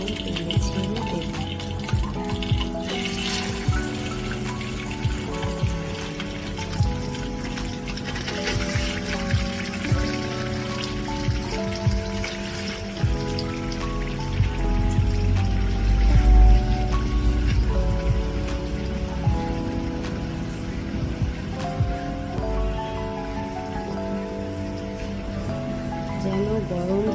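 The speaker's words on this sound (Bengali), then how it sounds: "এখন আমি মশলা মাখানো মাছটি আস্তে করে গরম তেলে ছেড়ে দেব।" Spiced pangas fish fries in hot oil with a continuous crackling sizzle that swells as the fish hits the pan. A person talks over the frying throughout.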